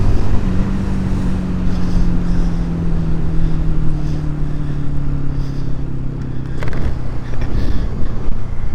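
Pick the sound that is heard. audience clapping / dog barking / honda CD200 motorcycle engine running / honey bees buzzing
honda CD200 motorcycle engine running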